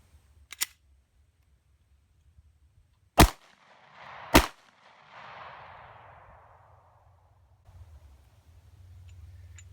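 Three sharp, loud pistol shots from a Smith & Wesson firing Winchester white box 115 grain full metal jacket rounds outdoors, spaced irregularly, each with a short rolling echo fading into quiet.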